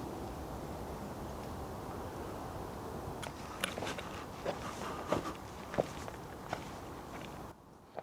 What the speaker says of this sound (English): Like pitter-patter footsteps.